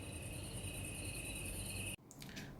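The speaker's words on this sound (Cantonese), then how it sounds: "仲會播啲蟬聲氹你瞓㗎" A Lenovo Smart Clock plays a continuous, even cicada-like insect chirr as a sleep sound, with high steady trills that stop abruptly near the end, followed by a few faint clicks.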